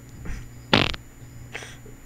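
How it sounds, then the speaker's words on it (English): A loud, brief fart sound effect in Portal 2 co-op sits between fainter rumbles and a soft later burst, with no talking over it. "A fart."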